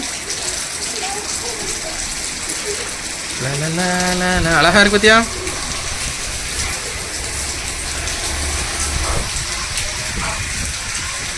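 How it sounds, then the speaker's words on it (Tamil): Steady rain pours during a storm in Tirunelveli, a constant hiss throughout, with a voice talking over it midway. "ஜில்லு ஜில்லுன்னு மழை வருது"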